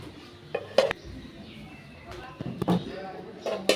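Plates clink and clatter in a home kitchen as two plates are handed over at mealtime, a few sharp bright knocks spread over a few seconds beneath background voices.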